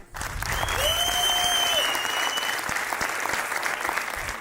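An audience claps in a sustained burst of applause at a motivational talk, dense and even at first and then thinning slightly, with a faint whistle-like tone above it early on.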